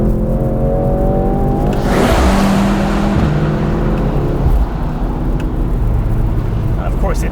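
A Mercedes-AMG C63 S E-Performance downshifts and then accelerates hard, its engine rising in pitch and dropping at a gear change. The car is loud and close, and a voice talks over the engine.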